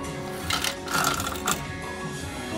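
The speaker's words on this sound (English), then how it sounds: "let's try to get our fat fingers to screw these screws back in" Small screws being driven back into the broken scoop arm of a Ticket Dome arcade machine, heard as close, short bursts of mechanical clicking and whirring with brief louder spurts.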